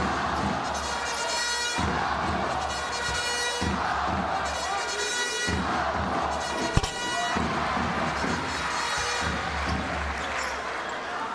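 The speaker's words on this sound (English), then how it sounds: "Hearing it from the home crowd in Damascus" The home crowd in a Damascus arena roars through a Saudi Arabia versus Syria FIBA basketball qualifier, a sustained wall of cheering and shouting with swelling surges, while a ball bounces and shoes squeak on the court.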